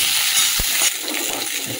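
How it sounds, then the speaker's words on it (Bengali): Cauliflower and potato pieces land in hot oil and start frying, giving a loud, broad hiss with a couple of sharp splutters that settles into steady sizzling. "তেলটা গরম হয়ে গেছে, যে কপি আর আলুটা দিয়ে দিলাম।"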